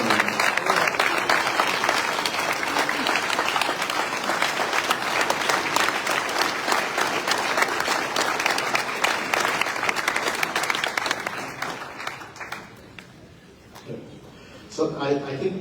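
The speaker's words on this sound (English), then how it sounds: "Can we give Jim and Beverly another round of applause for 8 long great years of leading this American Legion Riders program?" Audience applause at an American Legion Riders summit general session in Florida, a steady full round of clapping from a large crowd that fades out near the end before a brief swell.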